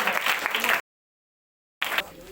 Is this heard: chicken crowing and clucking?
no